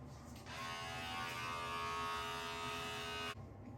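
A small electric beard trimmer switches on and buzzes steadily for about three seconds before cutting off, close and alone.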